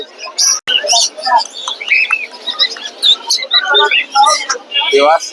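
Many caged birds chirp and squawk at the Mirpur bird market in Dhaka, a dense, busy layer of high, overlapping calls close by, with no pause.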